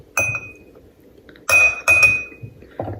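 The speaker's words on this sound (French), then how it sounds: "Je prends une bonne cuillère de matcha." A spoon clinks against a bowl while scooping matcha powder, giving several bright, ringing taps in short bursts close by, with quiet pauses between them.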